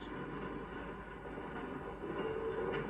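A freight train rumbles steadily along at a low, continuous roar, with a faint higher whine joining in toward the end, recorded in 1954.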